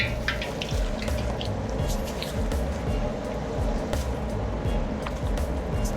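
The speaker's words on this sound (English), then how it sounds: "Now we're going to fry the chicken." Chicken frying in hot oil in a wok, a steady, dense sizzle with constant crackling and popping, loud and close, continuing without pause.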